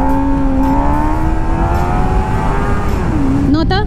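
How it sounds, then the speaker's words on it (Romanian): Cars drive past, with an engine hum holding a steady, loud tone that dips near the end, and voices break in briefly at the close. "De unde naiba vin mașini de aici"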